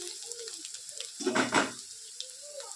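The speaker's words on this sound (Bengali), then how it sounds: "এবার এর মধ্যে আমি দিয়ে দেবো বটবটিগুলোকে।" Sun-dried bori lentil dumplings are added to potatoes frying in a little oil, giving a soft continuous sizzle that briefly swells louder in the middle.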